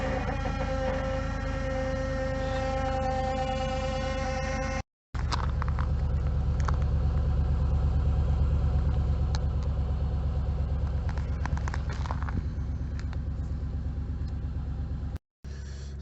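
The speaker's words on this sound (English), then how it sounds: "Power steering pump is probably gonna whine." A 2006 Jeep Commander 5.7 Hemi cold-starting at minus 10 degrees, a loud steady engine rumble and hum with a faint whine from the power steering pump, interrupted by two brief dropouts.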